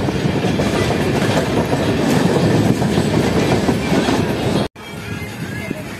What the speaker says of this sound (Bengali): পাশের লাইন দিয়ে যাচ্ছে হাওড়া থেকে দেওঘর ময়ূরাক্ষী এক্সপ্রেস।